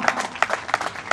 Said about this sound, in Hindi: जोरदार तालियों के साथ उनका अभिनंदन करना चाहेंगे